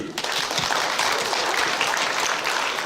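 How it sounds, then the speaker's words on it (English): A school assembly audience claps together for Rimu, a dense, steady wash of many hands that fills the hall at an even level throughout. "One more clap to Rimu."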